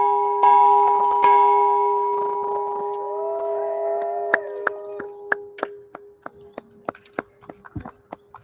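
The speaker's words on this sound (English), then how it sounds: "so they're going to ring the bell." A bell rung by champion debaters at a school announcement, one long ringing tone that fades, followed by a run of sharp, quick strikes and clacks, with faint voices.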